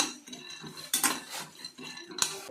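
Almonds dry-roasting in a pan over a low flame, stirred with a metal spoon: a series of scraping, rattling bursts against the pan, close and fairly quiet, with short pauses between strokes.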